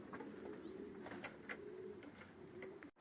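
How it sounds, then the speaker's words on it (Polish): Racing pigeons coo in a breeding loft, several soft rolling coos repeating close by over a quiet background, with a brief bump at the end. "A jesteśmy tutaj w gołębniku rozpłodowym."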